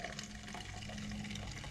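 A second sponge is squeezed out over a glass, producing a continuous quiet stream and splash of water, close and even in level without any talk.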